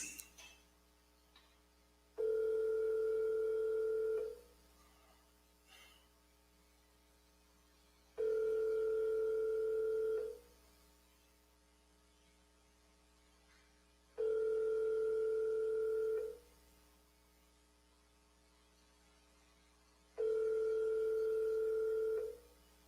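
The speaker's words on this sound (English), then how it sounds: "I don't got time to keep letting the phone ring." Telephone ringback tone on an unanswered call, four steady ringing bursts of about two seconds each, separated by roughly four-second silences, clear and fairly loud with no talk.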